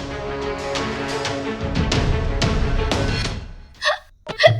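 A person hiccups a couple of times in short, sharp bursts near the end, following a steady stretch of background music in a Hindi drama scene.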